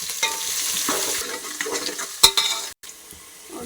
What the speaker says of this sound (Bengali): তারপরে পেঁয়াজটা দিয়ে লাল লাল করে পেঁয়াজটা ভেজে নেব।